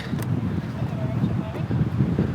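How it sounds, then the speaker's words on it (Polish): Wind buffets the microphone in a steady low rumble on the path to Nigardsbreen glacier in Norway, with a voice speaking faintly underneath. "ale tutaj wiatr wieje"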